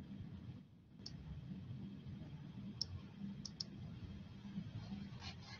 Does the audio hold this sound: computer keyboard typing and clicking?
yes